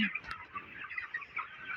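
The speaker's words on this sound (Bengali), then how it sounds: "আমাদের এই মুরগিগুলার বয়স হচ্ছে আজকে ছাব্বিশ দিন" Twenty-six-day-old broiler chickens in a poultry shed keep up a steady chorus of soft clucks and chirps, several overlapping birds at close range, fairly quiet and without speech.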